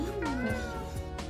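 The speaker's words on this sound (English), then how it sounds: "Luna, a cat that screams for dear life every time you pick her up" A cat screaming as it is picked up, a sharp, wavering meow-like yowl that rises and falls, loud and close, over a steady background hum.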